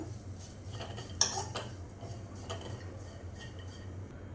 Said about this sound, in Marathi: आता त्याच्यातच मी सुकं खोबरं घालणार आहे अर्धा कप आणि छान परतून घेऊया आपण